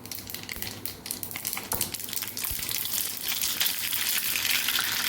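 Hissing, crackling sizzle builds as mustard seeds hit hot oil, growing louder and denser over a few seconds, with a few scrapes early on.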